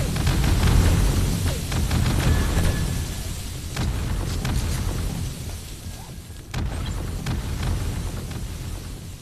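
Rapid bursts of gunfire in the video game 7 Days to Die over a low rumbling background, several volleys with short pauses between them.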